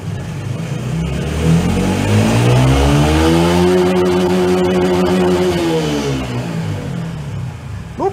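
A Dafra Apache RTR 200 motorcycle, 2023 model, held on its center stand while the engine revs up steadily toward top speed, a loud continuous climbing then falling engine whine heard close and alone, with no talk.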